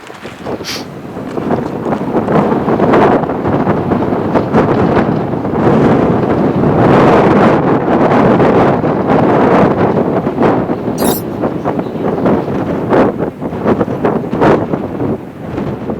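Strong wind on Mount Elbrus at 3847 metres buffeting the microphone in a continuous roaring rush, with gusts swelling and easing, no voices heard.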